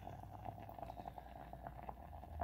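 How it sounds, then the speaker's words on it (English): Peach berry jam bubbling as it boils in a pot, a steady close simmer with soft repeated pops and blips over a low continuous hiss. "See those sugars just bubbling away in that pot?"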